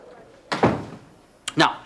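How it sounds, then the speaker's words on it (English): A door is pushed shut indoors, giving two solid thuds about a second apart, the second ending with a latching knock. "Please, close the door."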